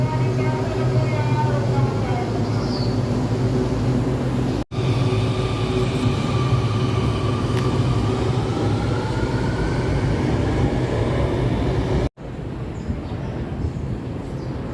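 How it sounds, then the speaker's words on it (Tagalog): An LRT1 train pulls away from the elevated Dr. Santos Station, a steady rumble and rising motor whine running for several seconds, with a person talking over it at times. "So ito po yung ating train na lalarga po ulit."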